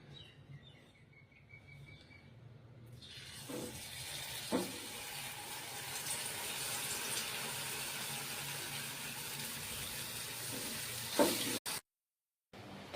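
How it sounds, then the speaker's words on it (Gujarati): Maggi noodle spring rolls drop into hot oil and burst into a bright, continuous sizzle that stays strong for several seconds, with a few clinks of stirring. Faint bird chirps come before it, and it cuts off abruptly near the end. "સ્પ્રિંગ રોલ ને તળી લેશું."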